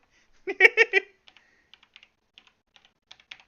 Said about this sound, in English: Give me time. I am a slow typer.